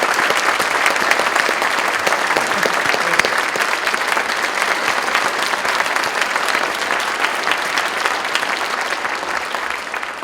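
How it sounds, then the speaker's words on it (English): A Veterans Day audience in Walnut Creek applauds a keynote speaker, a navy captain, with a loud, dense, sustained wash of clapping that holds steady for about ten seconds without talk. "ask you to join us in applause. First to the keynote speaker again, Captain David Yuers, for his presentation."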